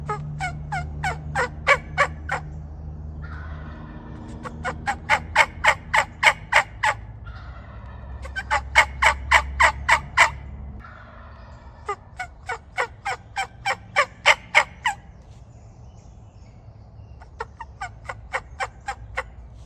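A wild turkey gobbles loudly and repeatedly during a Maryland turkey hunt, with rapid rattling bursts in about five separate rounds, close and clear over quiet outdoor background.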